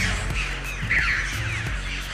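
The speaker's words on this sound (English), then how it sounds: "Crows rise up to mob the threat, chasing it with aggressive cries." Crows mob a buzzard with harsh, aggressive caws that overlap in a busy, continuous outdoor chorus of cries at moderate distance.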